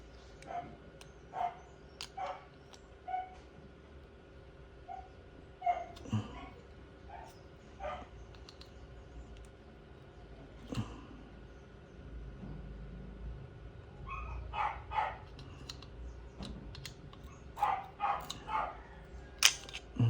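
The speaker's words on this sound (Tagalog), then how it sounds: "Ayan na naman, may mga aso na naman." Dogs bark in the distance outdoors, scattered single barks and short bursts spread through the clip over a low steady background hum.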